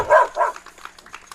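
A mascot dog at a high school baseball game gives two quick, fairly close barks, followed by a few fainter yips and outdoor background noise.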